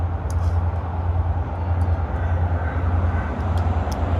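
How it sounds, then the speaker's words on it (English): A train passes at Kingsthorpe as a steady, loud low rumble that holds evenly throughout, with faint higher clicks now and then and no voices. "That's the train"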